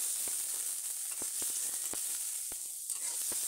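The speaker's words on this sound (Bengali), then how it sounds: "পেঁয়াজ কুচি, রসুন আর কাঁচামরিচ। এগুলো তেলের সাথে ভালো করে লাড়িয়ে চাড়িয়ে মিশিয়ে নিচ্ছি।" Chopped onion, garlic and green chili frying in hot oil give a close, steady hiss, broken by faint ticks and scrapes as the pieces are stirred.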